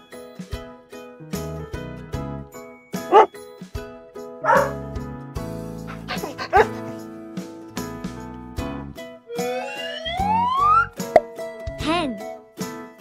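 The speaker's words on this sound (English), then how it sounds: "This is dog." A dog gives a few short barks and yips between bouncy children's music with plops, jingles and sliding tones, each bark brief and punchy.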